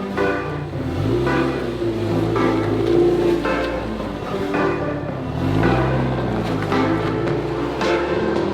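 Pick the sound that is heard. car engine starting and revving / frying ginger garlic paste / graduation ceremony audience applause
car engine starting and revving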